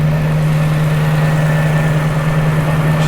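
Jaguar S Type R engine idling cold at a slightly high speed after its electronic throttle body was replaced, a steady, smooth, even hum with a constant low drone, close and alone throughout.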